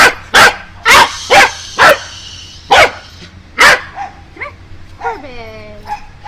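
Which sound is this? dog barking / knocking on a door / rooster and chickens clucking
dog barking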